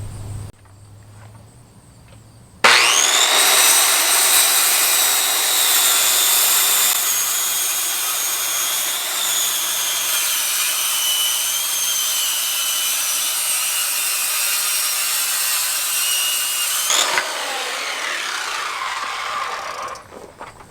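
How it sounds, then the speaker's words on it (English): A circular saw trims excess wood, its loud, steady high whine running for about fourteen seconds before the cut ends and the blade spins down, preceded by quieter background noise. "I'm going to take the circular saw, I'm going to cut off this excess"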